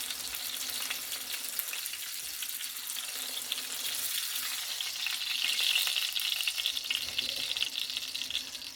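Tomato sauce sizzles and spits steadily in a hot oiled pan while pasta cooks with chicken nearby, a dense, continuous frying hiss that swells slightly midway and carries on alone with no talking.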